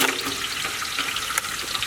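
Chopped garlic sizzles in hot oil in a home kitchen, a steady, close, hissing fry that runs evenly for about two seconds with no voices over it.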